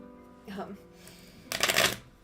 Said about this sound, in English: There we go, that was a better shuffle.